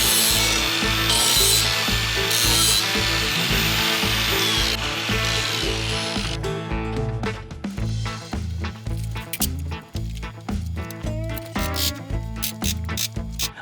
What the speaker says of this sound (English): So I'm gonna go around and chamfer all the edges on this before I weld it